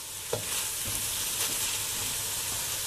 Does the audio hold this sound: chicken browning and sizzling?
yes